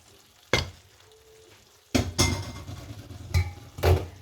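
Shrimp tipped into a pan of frying calamari, sharp clattering hits of utensil and food against metal followed by a sizzle and stirring scrapes close by, with no talking.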